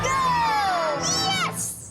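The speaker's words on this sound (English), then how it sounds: "And the crowd goes wild." Cheering crowd at a baseball game erupts after a winning play at bat, dense and loud throughout, with excited shouts and an announcer's voice riding over the roar.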